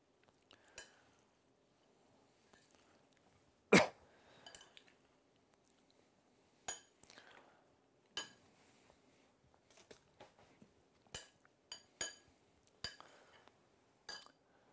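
A salad is tossed with vinaigrette in a bowl, producing sparse soft clinks and scrapes of utensils against the dish, quiet and intermittent with gaps between strokes.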